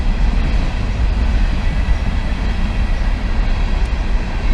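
A freight train rolls past a small-town railroad crossing in Oklahoma, a loud, continuous low rumble and rattle that holds steady from start to end.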